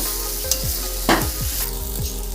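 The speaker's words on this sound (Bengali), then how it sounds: "একটু বেশি সময় নিয়ে আলুটা দিয়ে কষাবো" Potatoes being sautéed in a pan for a Bengali potato and cauliflower curry, with a steady sizzle under repeated scraping stirs of a spatula, up close and fairly loud, no voices.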